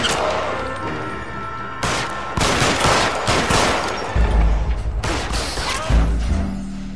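Gunfire in the crime game L.A. Noire: several loud, close volleys of shots in rapid bursts, separated by brief pauses, with heavy booming impacts between them.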